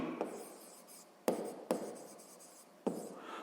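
A pen scratches and taps on paper while a math formula is written by hand, with soft strokes and several sharper clicks at irregular intervals, quiet and close.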